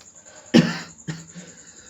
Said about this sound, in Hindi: सॉरी खांसी आ गया थोड़ा